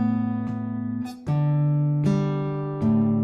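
Sustained guitar chords ring out, switching to a new chord roughly every second with a short strum attack at each change, played alone without any voice.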